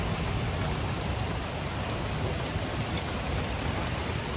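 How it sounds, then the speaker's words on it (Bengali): Steady, dense rain falls continuously on a rooftop, a loud even hiss throughout with no pauses or voices. "আবার বৃষ্টি এসে গেল।"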